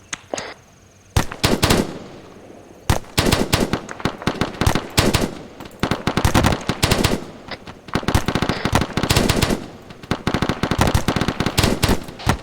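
Long, loud bursts of automatic rifle fire in ArmA 3 during a platoon attack, repeated volleys crackling close with short pauses between them, no voices.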